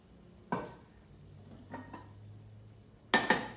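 Nonstick cookware pans and lids, including a covered 1-quart saucepan, clink and knock together while being unboxed, with a few brief metallic clatters spaced apart and a louder double clank at the end.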